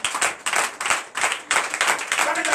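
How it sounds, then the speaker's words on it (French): A church congregation applauds and cheers for Jesus during an overnight deliverance and prophecy service, a dense, continuous wash of many hands clapping that surges in waves, loud and close, with voices mixed in. "Donnez de vive acclamation à Jésus."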